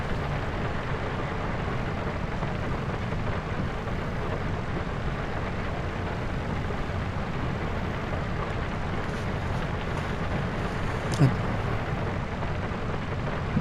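Continuous heavy rain in the Farming Simulator 25 video game, a steady broadband wash at constant level with a single faint click near the end, while someone talks over it.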